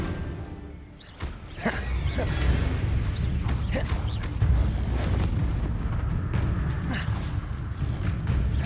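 Spell-combat blasts from Hogwarts Legacy, a dense run of booming magical impacts and crackling bursts over several seconds, loud and continuous beneath rumbling game effects.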